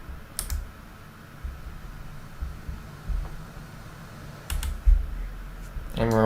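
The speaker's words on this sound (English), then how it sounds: "push G on the keyboard for the gear" A keyboard key is pressed once to lower the landing gear in an F-16C Viper flight simulator, a soft click or two with faint clicks from earlier typing over a low steady hum.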